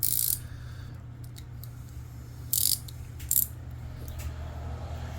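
Clicking of a ratcheting wrench mechanism with 72 teeth on an extra long flex head wrench: a few brief bright bursts of rapid ticks, near and fairly quiet over a steady low hum, with no talk.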